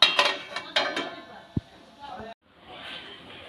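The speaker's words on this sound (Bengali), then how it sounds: "এবার কপিটাকে আমি ঢাকা দিয়ে দেব।" A metal lid clanks down onto a pot of cauliflower boiling on the stove, with a few clinks of cookware before it, then a quieter simmering hiss.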